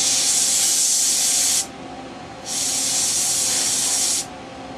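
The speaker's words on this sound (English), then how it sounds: "We can cool it off with the canned air." Canned air sprayed onto a circuit board with a voltage regulator to cool it, two close, loud bursts of hiss, the first about one and a half seconds, a short pause, then a second burst of similar length.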